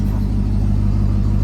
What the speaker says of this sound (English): I think that's the factory exhaust.